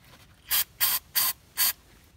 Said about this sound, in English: I'm gonna spray this entire thing full blast inside here.